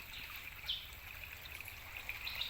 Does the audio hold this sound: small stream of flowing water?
yes